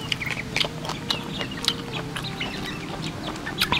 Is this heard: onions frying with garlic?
no